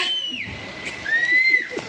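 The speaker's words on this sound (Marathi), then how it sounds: "जरा ओरडा शिट्टी वाजवा" An audience at a mall inauguration in Koregaon whistles shrilly. Sustained high whistles rise and hold over a dense crowd murmur.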